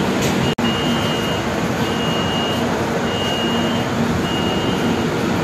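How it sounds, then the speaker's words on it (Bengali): A train stands at Bardhaman railway station's platform 2 around half past midnight, a steady broadband hum and hiss of idling equipment with a faint tonal whine, broken only by one sharp brief dropout near the start. "এই হচ্ছে Bardhaman station, platform number 2-এ train দাঁড়িয়েছে"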